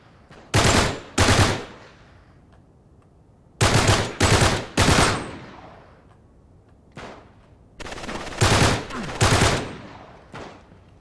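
Weapon fire in Uncharted 3: Drake's Deception, heard as three clusters of loud, sharp rapid-fire bursts, each a quick string of cracking shots separated by quieter pauses, with a few fainter single pops between them.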